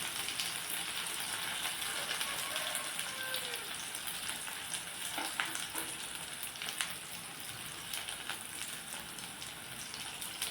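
Cumin, pepper and whole coriander seeds fry in hot oil with a dense, rain-like crackle that holds steady and close throughout.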